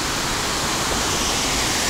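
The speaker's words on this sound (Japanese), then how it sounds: "こんなに綺麗な滝はなかなかありませんよ。" A waterfall near Karuizawa roars with a loud, dense, continuous rush of falling water, close by and steady, with no other sounds standing out.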